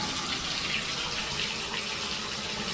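Water runs from a shower faucet after a new fixture is put in, a steady, even rush of spray that holds at the same loud level the whole time with no voices over it.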